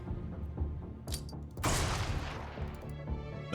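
A grenade blast in the tactical game Xenonauts 2 erupts as a loud, broad burst after a few sharp cracks, then a rumbling tail fades away.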